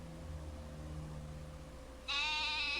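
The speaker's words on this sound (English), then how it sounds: "You sound hungry, my sheep." A sheep bleats in the Wishbone and the Amazing Odyssey video game, a single loud, wavering call that breaks in near the end over a low, steady game background.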